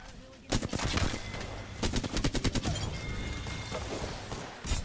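Rapid bursts of gunfire from a first-person shooter game crack out in loud, uneven volleys, with short pauses between strings of shots.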